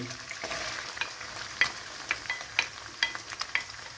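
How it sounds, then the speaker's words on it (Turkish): Meat and onions fry in a pan with a soft, steady sizzle, while a spoon stirs and scrapes with several light clinks at a close, fairly quiet level. "Etimiz kavrulduktan sonra hemen soğanımızı ilave ediyoruz etimize"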